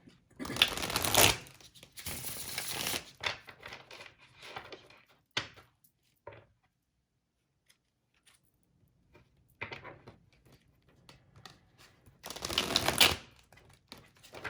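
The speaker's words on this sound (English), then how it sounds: "As I shuffle" Tarot cards riffle and shuffle in several crisp bursts, separated by quieter handling and short silent gaps; no one speaks.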